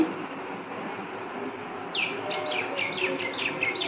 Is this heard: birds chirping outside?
yes